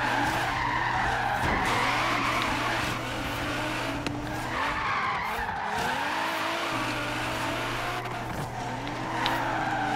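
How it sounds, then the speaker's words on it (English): Car tires skidding and squealing in Forza Horizon 3 as a 1200 horsepower Nissan GT-R drifts through a corner, a continuous loud screech over the engine drone that dips briefly midway and then swells again. "I'm actually starting to get good at drifting now."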